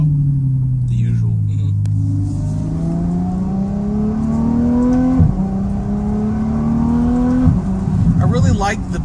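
Ferrari F12 Berlinetta V12 with a Valvetronic Fi exhaust, valves open, idling loud and close with a deep steady drone that swells in pitch, slight throttle blips near the end.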